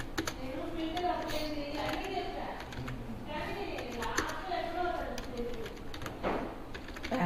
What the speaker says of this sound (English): come to the notepad, write HTML code